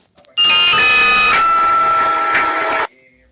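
An old Emergency Alert System alarm tone blares loud and steady for about two and a half seconds, a harsh sustained electronic tone that starts and cuts off abruptly.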